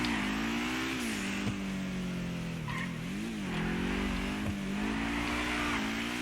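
Dewbauchee Rapid GT Classic, an Aston Martin V8-styled sports car in GTA Online, accelerating hard with a steady, loud engine drone that rises and dips through the revs, up close and with no talking.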